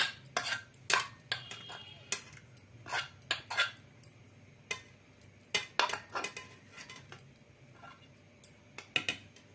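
Cooked sago pudding being moved into another bowl: scattered, sharp clinks and scrapes of a spoon against dishware, irregular and fairly close, with quiet gaps between.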